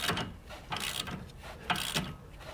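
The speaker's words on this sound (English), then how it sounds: "Put on our wrench." A ratchet wrench tightens a new 18 mm nut on the front sway bar link of a 2007-2013 Lexus ES350, giving close, quiet bursts of rapid clicking in about three even strokes with no talk.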